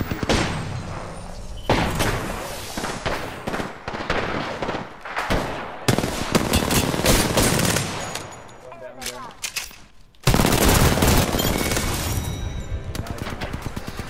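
Dense automatic gunfire from the video game Apex Legends, with rapid sustained bursts filling most of the stretch, a short lull, then a loud renewed volley near the end.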